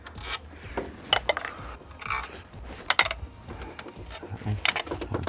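A ratchet works loose the intercooler nuts on an Isuzu D-Max, giving irregular metallic clicks and clinks up close with brief bursts of activity and quieter gaps, no talking.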